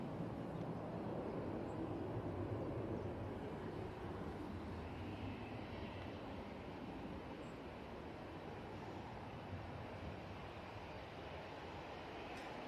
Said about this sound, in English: Ryanair making its way on to the active runway.